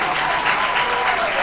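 A baseball crowd in a Nashville vs. Brookland game claps and cheers in a dense, continuous wash of applause, loud and steady throughout, with a faint announcer voice beneath it.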